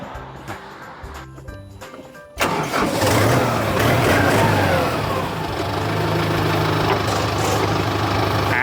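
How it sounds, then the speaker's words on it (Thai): A used Kubota M7040 DT tractor engine fires up after a quiet stretch of light sounds, then runs loud and steady with a coarse diesel roar and slight rises in revs, close to the listener. "รอบเครื่องนะครับควันไม่ขาวไม่ไหลนะครับ"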